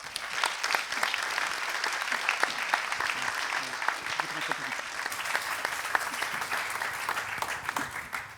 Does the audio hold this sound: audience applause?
yes